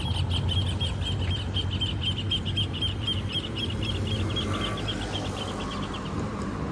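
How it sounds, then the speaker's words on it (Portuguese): Birds chirp in a rapid repeating pattern beside a seaside promenade in Praia Grande, their calls moderately clear over a constant wash of outdoor noise, with no one speaking. "E os pássaros cantando, coisa linda."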